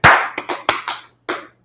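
Short bursts of hand clapping from a small group at a religious gathering honouring the Lord, about five or six uneven sharp claps close by with a brief pause before the last.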